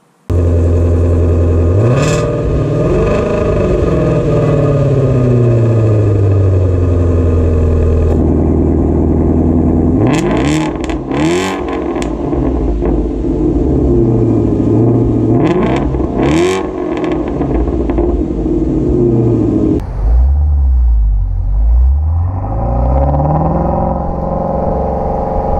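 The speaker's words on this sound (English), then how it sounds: "This is one of the best, if not the best sounding exhausts, from the manufacturer that you can get." Factory exhaust on a Shelby car revving repeatedly, with loud, close bursts of acceleration rising and falling in waves, then a deeper idle rumble near the end; no talking.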